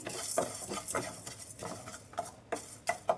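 A spoon stirs ground pepper and spices in a pan with repeated close scraping strokes in an irregular rhythm, some ending in light metallic clinks, and a faint sizzle underneath.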